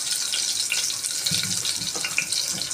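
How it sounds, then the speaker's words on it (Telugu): Tap water pours steadily while tomatoes are rinsed under it, a close, moderately loud hiss and splatter with slight shifts as hands move through the stream, and no speech. "టమాటోస్ కూడా బాగా నీటికి కడిగి"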